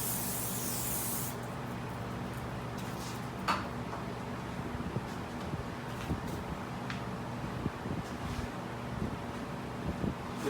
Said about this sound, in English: Give them a little spray down with brake cleaner on both sides.